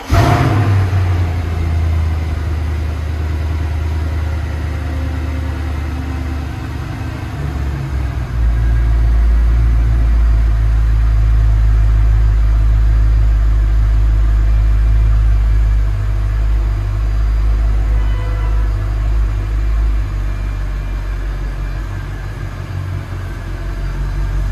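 A Mercedes C63 AMG V8 fires up from cold with a sharp starter burst, then settles into a deep, loud, lumpy high idle that swells and steadies, rumbling close by with no one talking.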